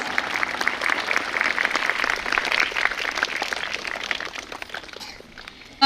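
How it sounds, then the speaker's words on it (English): A crowd claps steadily for several seconds at a school Republic Day celebration, a dense, crackling wash of applause that eases off slightly toward the end. "Please audience, give them a big round of applause."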